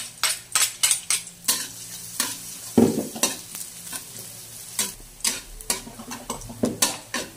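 Onions and garlic sauté in a pan for chicken tinola, a soft sizzle under repeated scraping and clinking of a utensil stirring against the metal, close and uneven in rhythm.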